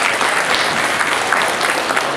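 Audience applause at a 2017 ball for families with three children in Tripoli, a dense, steady wash of many hands clapping together, loud and continuous throughout with no voices on top.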